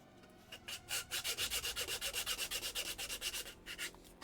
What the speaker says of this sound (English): What would be really handy is having sandpaper on both sides.